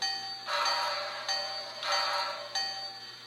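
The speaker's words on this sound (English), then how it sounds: "Bell." A bright metallic bell from a Bachmann Spectrum Pennsylvania Railroad 2-6-0 model steam locomotive's sound system clangs in steady, evenly spaced strokes, ringing clearly with no talking.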